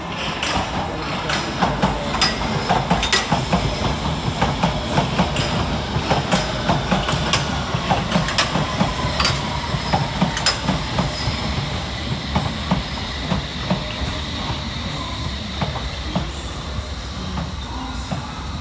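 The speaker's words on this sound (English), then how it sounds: "Next up is S-Stock units 21077 and 21078 with a Metropolitan Line service to Aldgate." A London Underground S-Stock train on the Metropolitan Line runs through Farringdon station, wheels clicking rhythmically over rail joints with faint squeals, loud and close at first and then settling into a steadier rumble.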